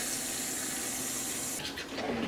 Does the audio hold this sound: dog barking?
no